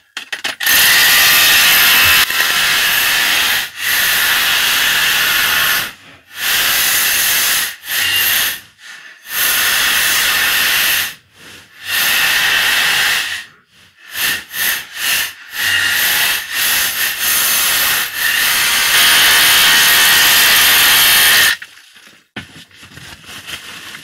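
Loud, harsh bursts of a hammer drill in hammer mode chipping hard rock for gold mining, running in long stretches broken by short pauses, close and dominant with no talking.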